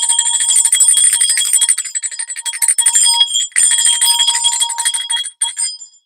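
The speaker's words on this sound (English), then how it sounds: "Let me get my bells out." Small handheld bells ring steadily and brightly for the full length, a continuous close shimmering jingle with brief dips near the end, rung by hand as thanks for a donation.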